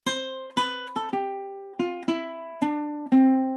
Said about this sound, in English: That's Joy to the World, right?